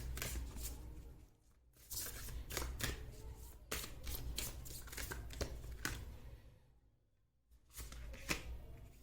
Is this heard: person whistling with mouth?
no